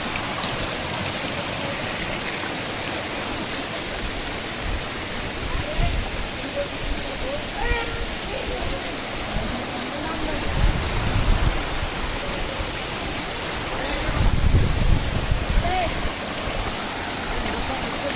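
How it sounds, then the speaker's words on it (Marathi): A waterfall pours with a steady broadband rush, close and continuous, surging louder in a few swells near the end, with no clear voices above the roar. "इकडून धबधबा होत आहे"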